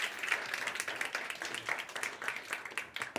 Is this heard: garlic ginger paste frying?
no